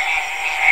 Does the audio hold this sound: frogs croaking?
yes